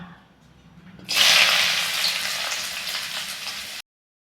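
Chopped onion, garlic and green chili drop into hot oil in a pan and burst into a loud, steady sizzle that holds for nearly three seconds before cutting off, after a quiet start.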